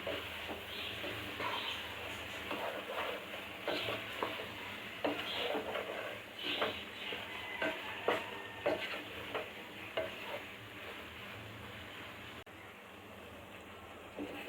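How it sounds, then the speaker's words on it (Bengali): Chicken pieces frying with spices in a pan for a jackfruit-seed chicken curry, a low steady sizzle broken by scraping, knocking stirs of a spoon at moderate volume. "এখন মাংসগুলিকে ভালোভাবে ভেজে নিতে হবে।"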